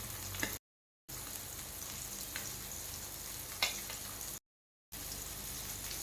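Fish fries on a tawa with a soft, steady crackling sizzle, quiet and close, with a couple of faint pops and two short gaps of silence.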